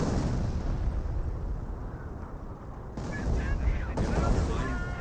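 Rumbling barrage of 25-pounder artillery shells in the World War II strategy game Company of Heroes, a dense continuous roll of distant blasts and bursts with a sharper impact near the end, under a caster's voice.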